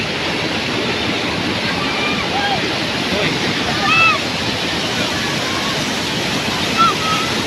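Water rushing steadily over a waterfall at a former broken bridge, a loud continuous roar close by, with faint bird-like chirps and a light wind rumble on top.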